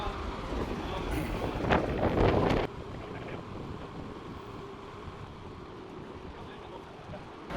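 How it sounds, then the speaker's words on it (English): Steady low rumbling wind buffets the microphone throughout during removal of a 120 ft boat mast, stronger and gustier in the first few seconds before settling into a constant roar. "particularly in these windy conditions, or windy-ish conditions"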